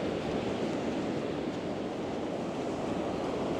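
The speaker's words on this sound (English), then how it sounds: "Them big waves." Big ocean waves break and roar steadily on Runkerry Beach, a loud continuous wash of surf with wind buffeting the microphone and no voices.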